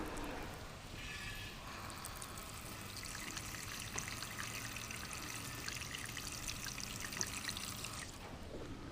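Water drains from a drain hole on a Toyota Land Cruiser 200, a steady splashing trickle that runs close and continuous for about eight seconds before tapering off.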